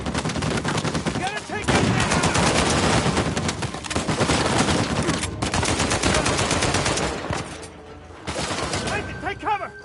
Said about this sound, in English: Watch the turret!